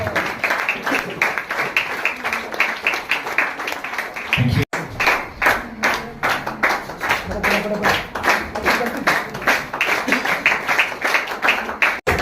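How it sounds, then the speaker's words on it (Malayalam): Audience clapping at a stage program, a dense run of hand claps heard close and fairly loud, with speech mixed in and a brief break partway through. "കയ്യടി അത് നമ്മൾ കൊടുക്കേണ്ട സാധനമാണ്"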